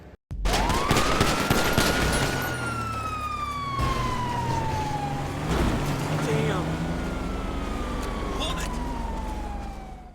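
Gunshots on police body camera footage of a Sonora Valley Police Department officer-involved shooting, rapid sharp cracks under a loud, close wailing police siren.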